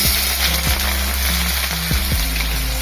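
Sliced onions and cumin fry in hot oil in a small pot for Andhra prawn fry, a close, steady sizzle with a few sharp clicks, and nobody speaks.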